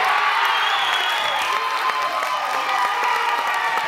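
Sustained audience applause and cheering at a UK open mic night in 2010, a dense, steady wash of clapping with scattered shouts from the crowd, loud and continuous throughout.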